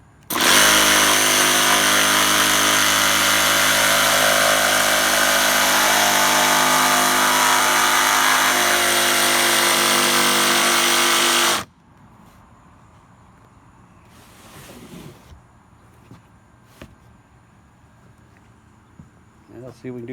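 A power saw with a dust blower and light cuts wood for an Alcort Catfish sailboat centerboard pattern, a loud steady whining roar for about eleven seconds, then it stops and someone talks amid faint workshop knocks.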